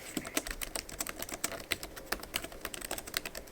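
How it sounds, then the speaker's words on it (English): Rapid typing on a budget laptop-style iPad keyboard, a fast irregular patter of soft key clicks close up, with no voices. "I'll give you a little typing test so you can hear how the keys sound on this keyboard."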